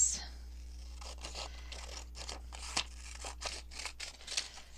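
Scissors snip through paper strips for handmade altered paper clips for junk journals, a run of quick, close cuts with short pauses between them against a quiet room hum.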